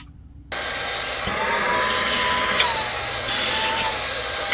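A mini handheld vacuum cleaner switches on with a sudden jump in level, then runs with a steady close whirring hum and a faint pitch drift.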